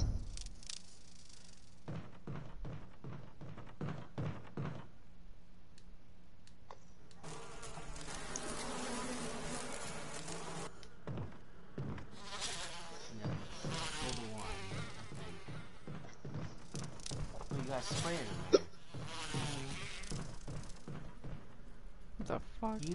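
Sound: killer bees buzzing in Resident Evil video game

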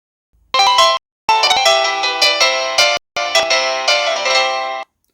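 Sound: phone ringtone played remotely via Find My Device

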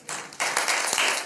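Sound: audience applause

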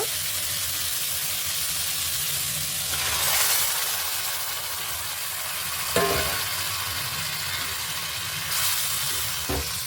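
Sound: boiled vegetables frying in spice masala in a pan

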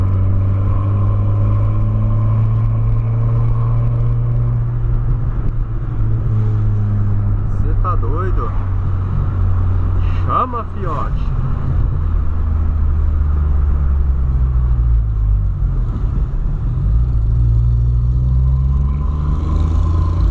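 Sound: Volkswagen Polo engine accelerating

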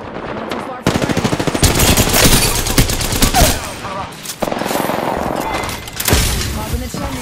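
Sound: gunfire being shot at the player in the video game Apex Legends

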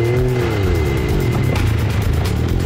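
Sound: 4WD vehicle driving and spinning around in a dirt bowl

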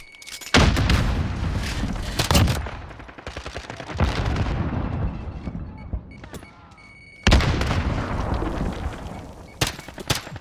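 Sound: grenade explosion from video game Call of Duty: Modern Warfare

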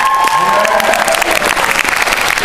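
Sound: audience applause at a talent show

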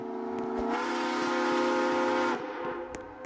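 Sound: train horn played in Roblox video game

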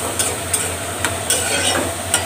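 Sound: stirring dried fish (shutki) frying in a pan

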